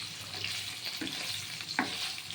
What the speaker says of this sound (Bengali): এই পনিরটা ভাজা খুব বেশি ভাজা হবে না সামান্য একটু লাল হলেই আমি এটা তুলে নেব